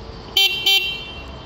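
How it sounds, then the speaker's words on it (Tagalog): A motorcycle's dual horn fitted alongside a mini driving light gives two short, loud honks in quick succession, close by and with no talk over them. "Tsaka yung dual horn niya guys,"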